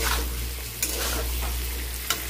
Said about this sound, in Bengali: সর্ষে পাতাটা দিয়ে নেড়ে ছেড়ে একটু জল দিয়ে ঢাকা দিয়ে দেবো